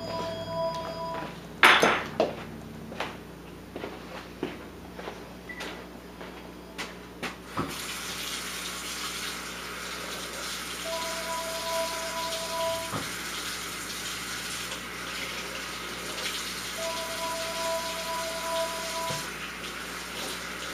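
Tap water runs steadily into a sink to wet a thin carved soap fish, a continuous hissing splash after some clattering handling noises, with an electronic phone ringtone chiming intermittently over it.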